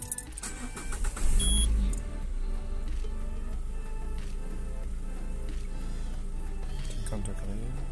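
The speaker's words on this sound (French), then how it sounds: "On va démarrer le véhicule." A car engine cranks and catches with a loud low burst, then settles into a steady idle that runs on under faint background sounds.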